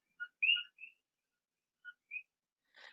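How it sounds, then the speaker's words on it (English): Frogs call outdoors with short, high, whistle-like chirps in two sparse clusters, clear against a silent background. "those are my frogs, my cookie frogs."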